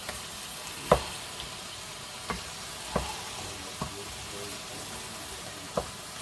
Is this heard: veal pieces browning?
yes